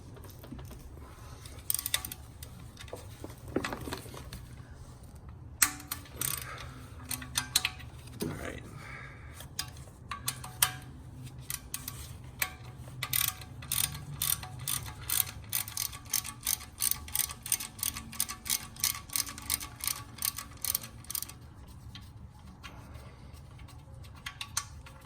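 A ratchet on a 15mm socket clicks in quick bursts as it backs out oil pan bolts on a Fiat 500 Abarth, the rapid ticking running close up through most of the stretch with brief pauses and handling noise.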